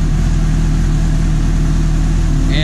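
A Suzuki GSX-S750 motorcycle engine idles steadily and close, a loud, even low-pitched throb with no change in pace and no talk.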